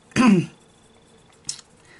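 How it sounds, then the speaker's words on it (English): A single sharp cough up close, followed by a short pause and a fainter second cough-like burst near the end. "do apologise for my cough"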